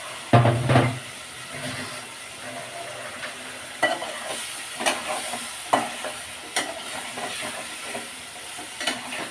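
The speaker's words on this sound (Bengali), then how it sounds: "কষিয়ে নিয়েছি এখন মাছগুলো দিয়ে দিব" Bottle gourd with shrimp fries in oil in a pan, a continuous sizzle punctuated by regular scraping stir strokes, close and clear, with no talking.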